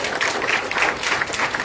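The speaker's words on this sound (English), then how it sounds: "Give yourself a round of applause" Crowd applause from people gathered outdoors in the morning at a community development outreach event in Buxton, a steady wash of clapping that holds at an even, moderate level throughout.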